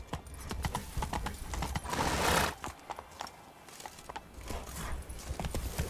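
Horse hooves clip-clopping steadily in The Witcher 3 on PC, a close, rhythmic trot with a brief whinny amid game ambience, no talk.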